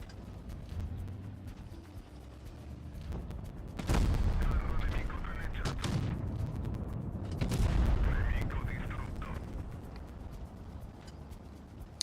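The Carro 45t autoloading tank gun fires in a video game, with two heavy, booming blasts a few seconds apart, each followed by a long rumbling tail over steady background engine noise.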